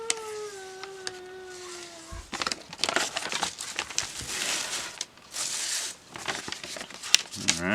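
Origami paper torn by the lick and tear method, a run of close crinkling and ripping noises in irregular bursts, preceded by a brief whistling tone and ending in a louder rustle.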